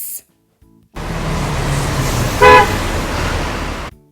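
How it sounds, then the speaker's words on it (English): A bus horn gives one short honk midway through steady road traffic and passing engine rumble, loud and fairly close, with no one speaking. "Bus."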